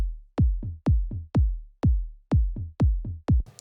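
Electronic tom and kick drum groove from a remake of an electronic track, the pitched tom tuned to the track's key, punchy evenly spaced hits, close and alone.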